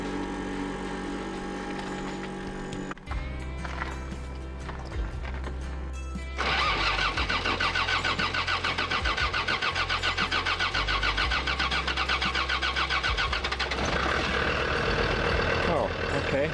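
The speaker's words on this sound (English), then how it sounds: "Now we try to jump the car from our house battery." A car engine on an Arctic Ocean journey cranks after being jump-started from a house battery, a few seconds of starter turning, then catching and settling into a loud, steady close-up idle that runs on to the end.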